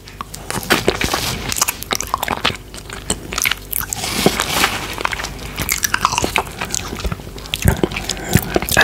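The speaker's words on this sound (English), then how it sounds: "Today I'm eating the Yuzu Mochi ice cream." Close, loud eating of yuzu mochi ice cream, with soft sticky bites, chewing and wet squishing repeating steadily throughout.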